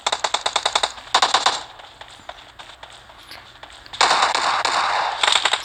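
Rapid bursts of Uzi fire in a shooter video game rattle in quick clusters, loud and close, with quieter gaps of movement and clatter between the volleys.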